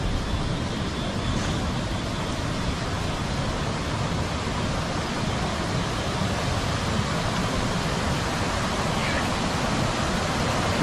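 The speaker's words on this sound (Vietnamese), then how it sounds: "Đây con suối này, này." A mountain stream near the forested village of Pa Cư Sáng flows with a steady, unbroken rush of water that stays close and fairly loud throughout.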